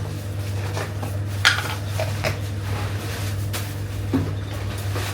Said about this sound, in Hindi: फिर मैं धोऊंगी बर्तन।